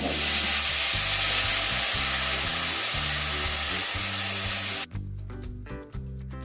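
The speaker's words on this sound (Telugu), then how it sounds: "ఇప్పుడు పిసికిన చింతపండు రసము దీంట్లో వేసేయాలి" Tamarind juice poured into a bitter gourd curry in a hot pan: a loud, close, steady sizzling hiss that suddenly drops to quieter bubbling frying with a repeating background hum.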